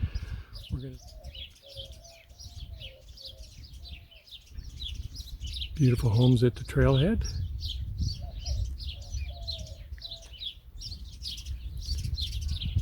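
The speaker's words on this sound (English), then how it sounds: "Lots of exotic birds, beautiful red cardinals, many other types." Birds, including red cardinals, chirp and tweet steadily on Finger Rock Trail in the Catalina Mountains near Tucson, Arizona, while a person speaks, with a louder burst of calls near the middle.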